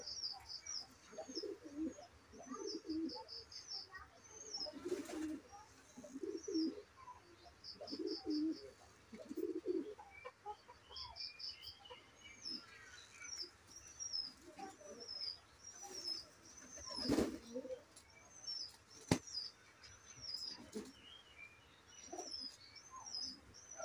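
Pigeons coo in low, repeated phrases throughout, with small birds chirping high and steadily overhead; no voices.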